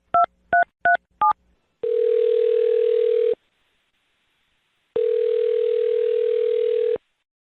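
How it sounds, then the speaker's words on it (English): Four quick touch-tone beeps sound as a phone number is dialed during a radio call-in segment. Two long, steady ringing tones follow, separated by a silent pause, with no talking. "I'm going to dial her phone number right now"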